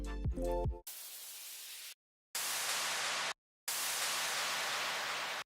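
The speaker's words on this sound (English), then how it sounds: "Lastly, in the drops, I have effects, just a few down sweeps." Downward sweep effects from a future bass drop, produced in Ableton Live: a brief tonal sweep followed by three bursts of bright hissing noise separated by short silences.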